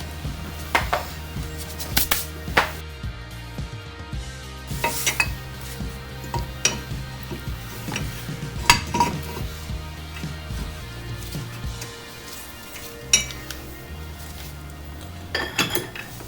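Metal wrench clinks and taps while a nut is worked off the tie rod of a 1987 Corvette C4, scattered close metallic knocks and scrapes over a low background hum.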